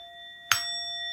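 A Tibetan bell is struck once during a quiet guided meditation, giving a sharp bright ding over the faint sustained tones of earlier strikes still ringing.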